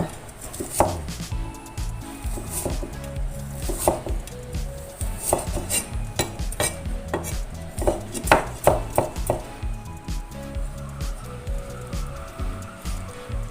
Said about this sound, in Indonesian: Iris panjang-panjang dan tipis ya